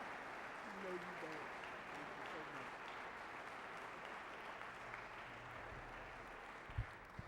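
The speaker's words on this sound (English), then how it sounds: "let's receive with a warm round of applause, Brother Minister Fontaine Muhammad" A gathering welcomes a speaker with applause, a steady, moderately quiet patter of many hands with a voice faintly audible beneath it.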